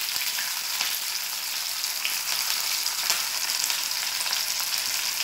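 Onions fry in hot oil with popped mustard seeds, making a close, constant hiss of sizzling that stays even from start to finish.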